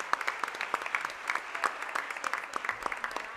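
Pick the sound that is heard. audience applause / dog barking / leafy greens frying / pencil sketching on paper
audience applause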